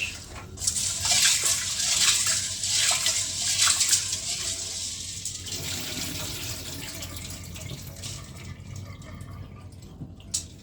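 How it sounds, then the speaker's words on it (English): Raw oxtail pieces are rinsed in water in a kitchen, with close splashing, sloshing and running water that fades toward quieter handling near the end. "We're going to give it another wash."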